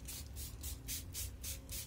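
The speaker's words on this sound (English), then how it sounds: "So I'm just going to spray as if you were misting your plant" Neem oil mixture misted from a hand spray bottle onto a cordyline fruticosa plant, about seven quick hissing spritzes in a steady rhythm, close and fairly quiet.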